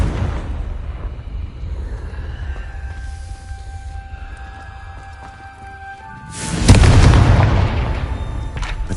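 A Confringo fire spell goes off in the video game Hogwarts Legacy: a loud burst opens, then a quieter stretch of sustained magical tones follows, and a second heavy fiery explosion roars up near the end and rumbles on.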